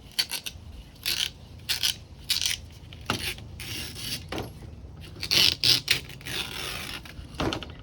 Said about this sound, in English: We'll have to clean out the channel too, make sure you get all the old screen material out of there.